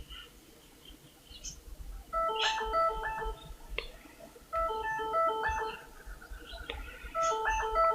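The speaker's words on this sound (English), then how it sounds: "That's just my phone." A phone rings melodically in the background of a quiet room, sounding in repeated bursts of bright tones that come and go over several seconds, with no talk over it.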